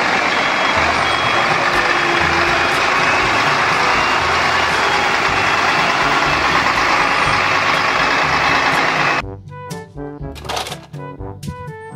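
A toy cement mixer truck runs with a steady buzzing motor hum for about nine seconds, then stops, followed by a short burst of electronic beeping tones.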